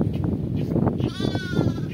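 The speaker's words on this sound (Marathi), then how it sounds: "असं मस्त असं गव्हात खातात मेंढ्या" A sheep gives a single wavering bleat, fairly close, over a busy outdoor background in a grazing field among wheat and millet crops.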